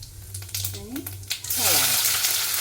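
Mustard seeds and cumin hit hot oil in a short burst, and the sizzle swells loud and bright near the end, with a voice faintly heard at the start.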